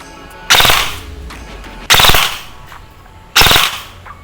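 A G&G RK74 airsoft rifle fires three short full-auto bursts, each a loud, rapid mechanical rattle of shots about half a second long, separated by pauses of over a second with a faint background hum.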